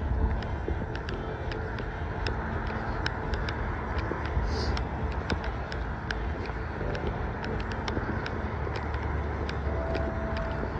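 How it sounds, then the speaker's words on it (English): Road traffic noise heard while walking beside a road on the Camino between Leon and Hospital de Orbigo: a continuous broadband roar of passing vehicles with faint ticking, steady and moderately loud throughout, with no talking. "The noise of the traffic is driving me nuts."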